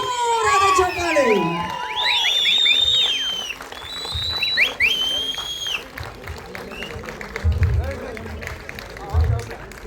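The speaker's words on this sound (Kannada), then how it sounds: "ದಯವಿಟ್ಟು ಜೋರಾದ ಚಪ್ಪಾಳೆ." At a film title launch event, an audience breaks into loud applause and cheering with shouts and whistles, strongest at first and then thinning into a scattered crowd murmur.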